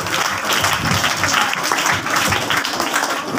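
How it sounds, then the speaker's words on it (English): A crowd at a birthday celebration applauds in a steady, busy patter of many hands clapping, continuous and fairly close throughout, with no clear talk over it. "Round of applause."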